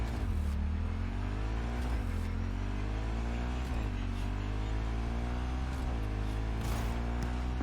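A motorcycle engine in Cyberpunk 2077 revs in repeated rising pulls, a loud, close, steady rumble throughout with no other sounds.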